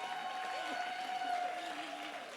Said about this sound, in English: maybe another round of applause for him